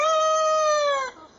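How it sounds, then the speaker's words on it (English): A young, teenage rooster gives a single, fairly loud crow lasting about a second, held steady then breaking off, with no talk. "Hopefully you caught that teenage rooster trying to crow up a storm."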